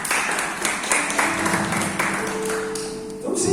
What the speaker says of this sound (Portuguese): Deixa uma salva de palmas para ela.